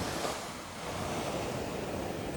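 Ocean surf rolls in at the Half Moon Fort surf break, a loud, continuous wash of breaking waves with a slight dip and swell in intensity, mixed with wind noise and no talking.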